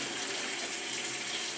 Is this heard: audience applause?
no